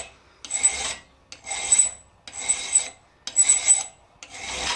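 A hand file rasps across a round planishing tool in five even back-and-forth strokes, each a close, gritty scrape separated by short pauses.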